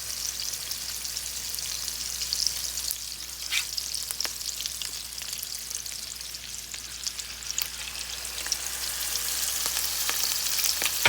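Canned chicken patties fry in hot oil in a Southern home kitchen, giving a dense, crackling sizzle like rain that builds slightly toward the end, with a few sharper pops, close and steady, no voices.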